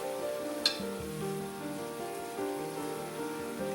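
Risotto sizzling and bubbling in a pan while being stirred with added liquid, a steady crackle with one sharp click near the start.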